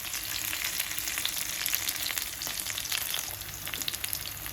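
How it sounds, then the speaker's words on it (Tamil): Raw plantain slices fry with garlic in a pan, giving a loud, continuous crackling sizzle that runs without pause and without any voices. "இப்போ நான் வாழைக்காய் நல்லா மொறுமொறுன்னு ஃப்ரை ஆகிட்ட அப்புறம் உங்களுக்கு காட்டுறேன்"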